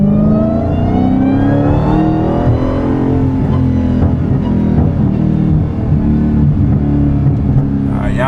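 A Dodge Challenger Hellcat engine revs hard and steadily, close and loud, with a throaty exhaust note and occasional crackling pops.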